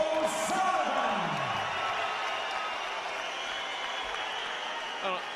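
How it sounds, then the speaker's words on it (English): A Dublin boxing crowd applauds after a first-round knockout, scattered clapping and cheers washing through a large hall beneath a commentator's voice, with a descending tone early on. "sporting applause from a crowd that's got to be pretty disappointed here as well"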